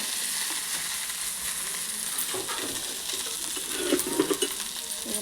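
Sliced okra fries in cooking oil in a pan for a palya, giving a steady close sizzle that continues throughout, with a few scraping stirs toward the end.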